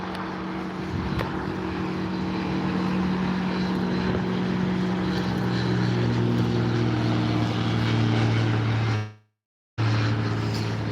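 A propeller aircraft rolls for takeoff at Barton Aerodrome in Manchester, its engine a loud, steady drone with a strong rising tone as power builds. The sound cuts out briefly near the end, then resumes.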